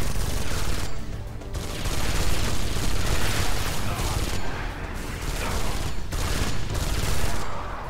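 Sustained bursts of gunfire from the sci-fi action game Space Siege, loud and dense with rapid overlapping shots and booming impacts running almost continuously, briefly easing between volleys.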